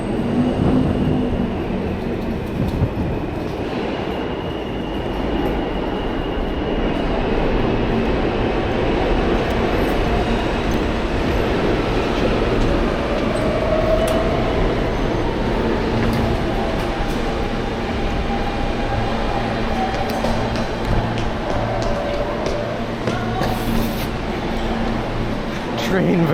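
A New York subway train runs with a steady, loud rumble and rail drone, faint wheel squeals and a whine rising in the middle, while people talk over it.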